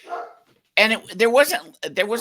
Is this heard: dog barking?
yes